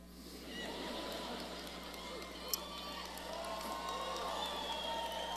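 Steady applause and cheering from a large crowd at a university commencement ceremony, broad and continuous, heard at a distance with a faint hum underneath.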